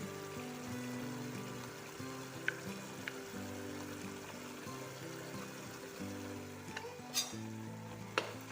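Chilli soya cooking in a pan with salt and cornflour, a low steady bubbling sizzle with faint scattered ticks and a couple of brief sharp clinks, quiet and without speech.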